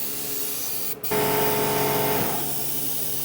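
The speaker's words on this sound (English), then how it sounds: "So I got my little Posh model kit brush, airbrush, and we are going to touch that up while the paint's still wet" A small Paasche model-kit airbrush sprays orange paint onto the wheels of a Kubota B2601 tractor, giving a close, steady hiss that starts after a brief break and carries on for about a second and a half before easing off, with no talking.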